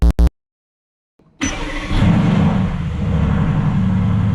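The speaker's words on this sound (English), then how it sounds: "we are driving the AMG GTS today" A Mercedes-AMG GTS sports car with 515 hp and 630 Nm of torque. A brief loud burst, a second of silence, then a steady, deep engine drone that rumbles on with a slight swell, no voices.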